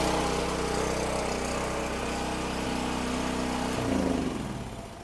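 A conventional, non-inverter portable generator's engine drones steadily and loudly up close, with a slight shift in its rumble near the end.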